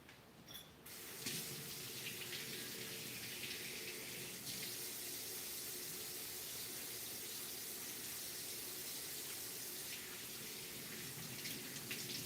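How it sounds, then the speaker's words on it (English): Tap water runs steadily into a sink as hands are washed, a continuous close splashing hiss that barely changes for the whole stretch. "I'm gonna wash my hands now."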